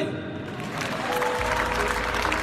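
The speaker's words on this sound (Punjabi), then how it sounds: "ਜ਼ੋਰਦਾਰ ਤਾੜੀ" Loud applause swells from an audience at a Babbu Maan fan event, the clapping thickening into a dense continuous roar partway through, with a voice faintly underneath.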